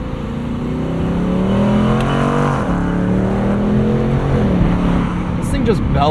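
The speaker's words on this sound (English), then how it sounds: "Really should shut up while the car is making noise." A 2024 Ford Mustang Dark Horse V8 revs hard while being driven, its loud, rising and falling engine note swelling through gear changes, close and continuous, with a person's voice talking over it.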